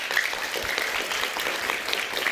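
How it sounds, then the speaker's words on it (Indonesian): Applause from a studio audience for Liga Akbar, a witness in the Vina Cirebon case, a dense continuous wash of many hands clapping, moderately close and even throughout. "Kita berikan tepuk tangan untuk Liga Akbar."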